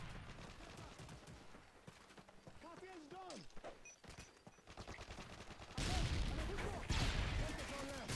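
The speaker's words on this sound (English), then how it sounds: "Oh man, what a lucky grenade." Combat in Call of Duty: Modern Warfare 3, with a steady crackle of distant gunfire followed by a louder blast and a dense burst of noise near the end, while a person talks over it.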